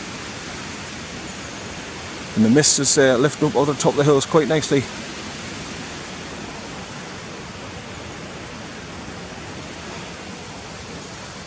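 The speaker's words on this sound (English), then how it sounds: "as you can hear, I'm just above the waterfall" Cotter Force waterfall roars as a steady, broad rushing wash heard from just above the falls on a hillside path, a voice talking briefly over it near the start.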